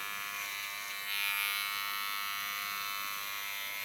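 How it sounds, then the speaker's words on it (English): An electric hair clipper buzzes steadily at close range, its high-pitched hum swelling briefly as the tip softens a hairline, with no talking. "only use the tip of my clipper"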